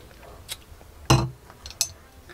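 Glassware clinks in a few close, sharp knocks, one louder clink in the middle flanked by softer taps, over a low background hum.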